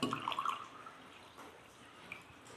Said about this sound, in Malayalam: ഗ്ലാസ് എടുക്കാം, അതിൽ കുറച്ച് വെള്ളം ഒഴിച്ചു കൊടുക്കാം കേട്ടോ.